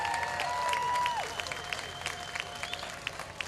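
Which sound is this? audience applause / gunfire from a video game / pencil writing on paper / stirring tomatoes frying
audience applause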